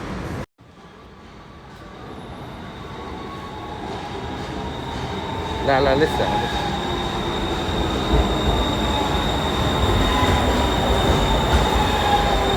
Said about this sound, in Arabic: هذا الترام المترو العسكري واقف ينتظر لين يدخلنا